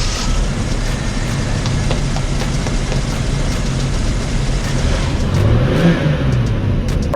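A car engine running on high-octane race fuel after a new set of spark plugs, a steady loud rumble with a slight rise in revs toward the end, no talking.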